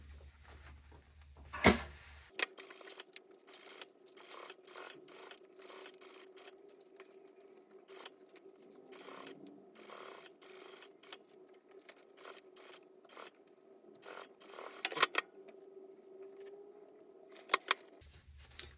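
A sewing machine stitches fabric in a steady, close mechanical hum with a rapid needle rhythm, starting and stopping with a few sharp clicks at the beginning and end.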